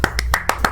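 Five crisp, evenly spaced claps of a small group applauding, brief and close, like a short game applause effect in Doki Doki Literature Club.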